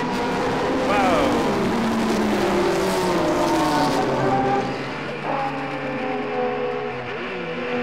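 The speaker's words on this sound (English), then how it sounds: "you could sure hear Bomarito in that Mazda wind up" Mazda twin-rotor rotary race car engine winding up under acceleration at a vintage sports-car reunion race, a loud rising whine that fades as it passes, with commentators talking over it.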